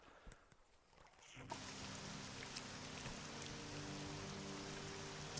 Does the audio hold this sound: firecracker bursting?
no